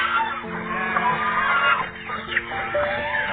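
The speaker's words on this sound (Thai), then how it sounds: "ไก่งวง" Farmyard turkeys honking and gobbling in a continuous noisy chorus, several birds calling close by with overlapping harsh calls.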